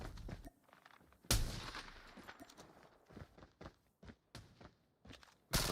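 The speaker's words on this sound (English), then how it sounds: "Gunshot is gonna be fired" Gunfire in Call of Duty Mobile, a competitive esports match: a sharp loud shot cracks, followed by scattered bursts and quick footsteps in the game's soundscape.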